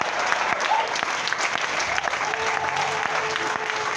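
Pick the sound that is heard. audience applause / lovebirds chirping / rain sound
audience applause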